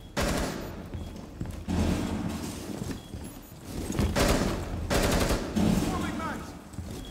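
Rapid bursts of automatic gunfire in a tactical shooter video game, loud and dense, with repeated volleys and thuds layered over game effects, alongside a voice talking.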